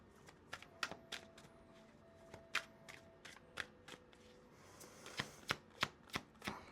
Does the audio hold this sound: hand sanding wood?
no